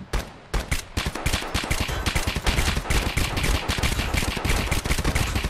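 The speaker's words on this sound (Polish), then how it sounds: "Strzela do nas." Rapid bursts of gunfire in the video game Escape From Tarkov, dense loud automatic shots cracking almost continuously for several seconds with a brief pause near the start.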